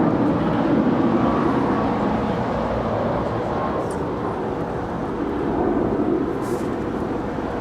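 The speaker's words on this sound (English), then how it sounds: "That is Alaska Airlines Flight 817 departing to Honolulu. That is a 737 MAX 9." An Alaska Airlines Boeing 737 MAX 9 jet departs a runway at Los Angeles International Airport, bound for Honolulu, its engines a steady broadband roar held at a near-constant loudness throughout.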